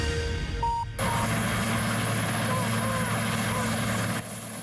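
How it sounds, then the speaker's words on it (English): A Royal Canadian Air Force helicopter touches down in Vancouver carrying the Grey Cup trophy, its loud steady rotor and engine roar filling the scene after a brief cut-in. "The touchdown today of a Royal Canadian Air Force helicopter carrying the Canadian Football League's championship trophy to Vancouver."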